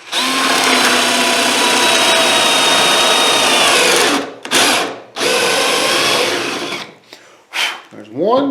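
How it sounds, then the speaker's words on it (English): A power drill whines loudly and steadily as it bores pocket holes into wood with a Kreg Jig K4, pausing briefly and starting again, then winding down near the end. "we're going to take our drill, put our bit in here."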